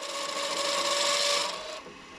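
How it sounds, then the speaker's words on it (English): A parting tool scrapes a resin pen blank spinning on a lathe, giving a harsh, shrill continuous screech like nails on a chalkboard that holds steady and then fades to a quieter scrape. "the noise that the parting tools make is not nice"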